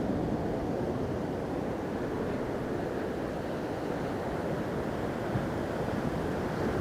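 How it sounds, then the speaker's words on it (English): Ocean waves rolling in on a deserted beach in mid-Wales, a continuous broad roar of surf with wind buffeting the microphone, steady and fairly loud throughout. "Some good waves coming in today."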